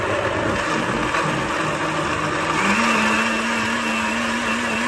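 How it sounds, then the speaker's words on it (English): A kitchen blender whirs steadily as it purées roasted red pepper soup, a continuous loud motor drone whose pitch rises slightly partway through, with no voices. "The blender's not working."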